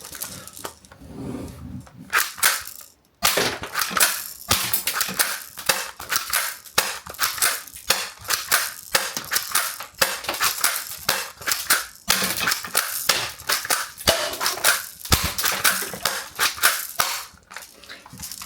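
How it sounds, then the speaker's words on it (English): A red special-edition toy Desert Eagle BB gun firing pellets in rapid succession at an apple, a loud, close burst of sharp cracks and snaps repeating densely with only brief pauses. "Okay, let's have a go at some rapid firing."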